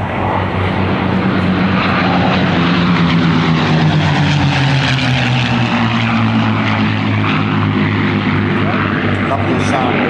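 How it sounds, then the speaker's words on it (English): A Packard-built Merlin V12 in a P-51 Mustang roars past at an air display, a loud continuous propeller-engine drone with a pitch that slowly falls as it passes, steady throughout with faint talk underneath. "Lovely sound of the, well, I was going to say Rolls-Royce Merlin, but it isn't, it's the Packard version."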